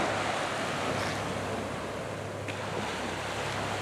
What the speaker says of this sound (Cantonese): 竹灣嘅海浪冇咁大，頭先黑沙海灘呢邊就大啲